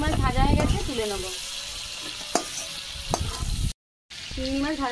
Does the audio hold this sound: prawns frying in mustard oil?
yes